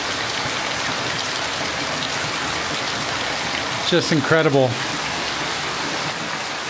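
Heavy tropical rain pours steadily onto a hotel pool and its surroundings in Ubud, a dense, even hiss filling the whole stretch, with a brief spoken exclamation partway through.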